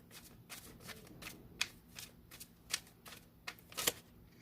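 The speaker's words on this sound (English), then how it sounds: "I want to get some more cards on that." Tarot cards shuffled in the hands, a quick run of soft riffling slaps and sharper snaps with small pauses between, close and fairly quiet with no voices.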